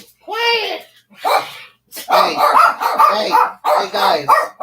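A dog barks and yips in several short, loud bursts close by, while a person speaks over and between the barks.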